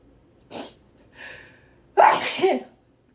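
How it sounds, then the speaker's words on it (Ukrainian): A single loud sneeze, close up, with a sharp burst after two quieter breathy intakes, then silence. "Зараз чихну."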